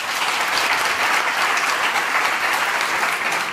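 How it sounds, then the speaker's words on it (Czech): Audience applause at a live talk event on February 1948 and failing intellectuals, dense and steady clapping from a crowd throughout, with no voices over it. "A největší potlesk bych ještě poprosil pro Viktorii a Jana Stehlíkovi."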